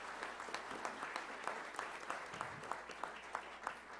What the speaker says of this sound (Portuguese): Aplaudir o nosso prefeito aqui.